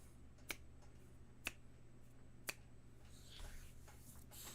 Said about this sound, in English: finger snap